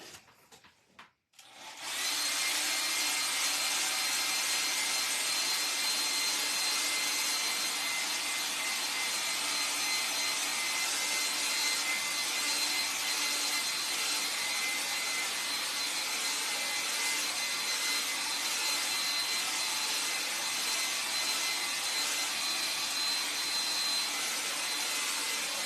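Hair dryer blowing on a wet watercolor painting, starting suddenly after a brief click and then holding a loud, steady, close whoosh with an unchanging airy hiss until the end.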